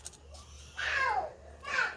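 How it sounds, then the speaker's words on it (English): Children screaming outdoors, heard from inside a home kitchen: two faint, distant rising-and-falling shrieks, the second shorter, over a quiet room hum. "Can you hear my kids screaming outside?"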